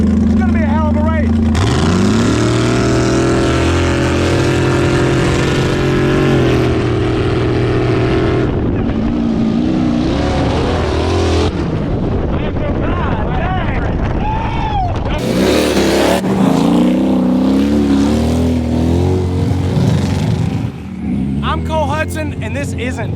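A Jeep racing a Hellcat car at a muddy Florida truck party: loud, close engines roar and rev continuously, with shifts in pitch as they accelerate, while people talk over the noise.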